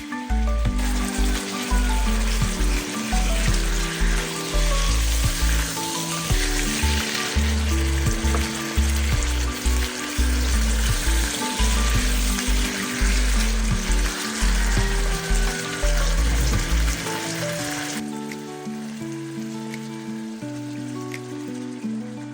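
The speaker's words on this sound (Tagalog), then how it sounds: "ilagay yung bawang at sibuyas at gisahin" Garlic and onion sauté in a pan for pork steak, producing a dense, loud, steady sizzle that eases slightly near the end, with no voices.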